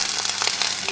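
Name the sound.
sauteing Hatch green chilies in a pan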